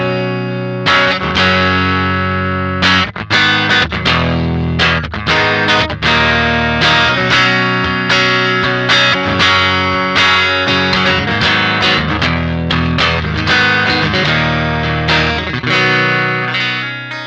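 Electric guitar driven through the left side of a Tallon Electric Dual Drive pedal, loud and distorted, with strummed chords and choppy rhythmic stabs played continuously and up close with no talking.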